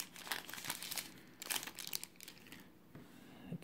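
Plastic blister packaging crinkling as a toy figure's tail is pulled out, a series of quiet, sharp crackles in irregular bursts, close up and soft.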